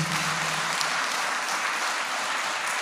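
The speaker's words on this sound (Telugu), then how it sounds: "చప్పట్లు కొట్టండి గట్టిగా." A church congregation at Sunday worship claps together loudly and steadily, a dense wash of applause filling the room without pause for about three seconds.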